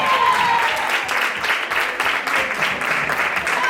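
Loud, even applause fills the hall as another player is introduced at a women's table football all-star match in Lugo, with a brief tonal note early on and crowd murmur under the claps.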